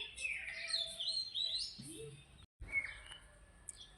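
Birds calling and chirping in a Rajasthani village field where pigeons gather as the summer wheat harvest winds down, high tweets fairly steady and moderately close, with a brief gap partway through.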